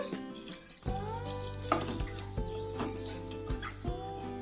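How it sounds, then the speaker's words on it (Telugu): Bombay rava (semolina) frying in ghee in a heated pan, a steady close sizzle with intermittent scraping as it is stirred, set against a low background tone. "ఈ రవ్వ మాడకుండా దోరగా వేయించుకోవాలి"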